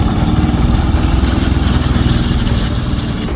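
A World War II German Panzer IV tank engine runs steadily, giving a continuous close, loud, low rumbling drone with a fast pulsing throb and no voices.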